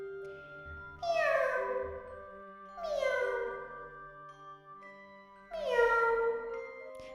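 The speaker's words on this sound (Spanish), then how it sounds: "Doña Milagros estaba cada vez más preocupada y maullaba atemorizada" Three distinct, loud, drawn-out meows from a frightened cat, each a falling, whining cry separated by brief pauses, heard over a faint low background.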